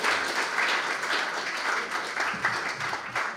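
Audience applause at a live Swedish music show rings out after a singer's performance, a continuous burst of clapping with rising and falling swells across the room.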